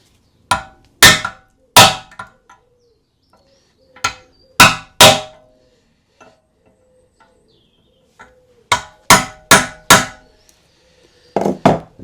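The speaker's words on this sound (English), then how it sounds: "So if you get a chisel and put it in that gap," Sharp hammer blows drive a chisel into a gap to free a seized part during a restoration job, landing in clusters of two or three solid metallic strikes with quiet pauses between, close and loud.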